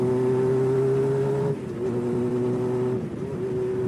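Honda CB550 cafe racer motorcycle with velocity stacks, its engine droning steadily while riding, with a strong even hum that shifts pitch slightly as the rider changes throttle, close and continuous with no talking.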